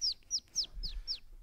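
A person imitates a bird call: five sharp, descending whistled chirps at an even rhythm, close and clear, with low background rumble.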